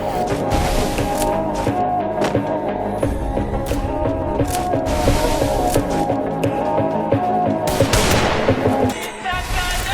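Gunfire in a shooting video game, rapid bursts of loud shots and clattering impacts in quick succession over a busy game soundtrack.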